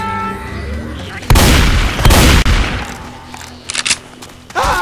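Gunfire in Left 4 Dead 2, with a loud close burst of shots and heavy booms in the middle, then short bursts later, with a voice talking at the start.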